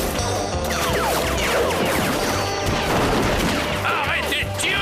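Dense, rapid cartoon gunfire from a Lucky Luke Wild West bank hold-up scene: a loud, continuous fusillade of overlapping shots and crashes, filling the whole stretch without pause.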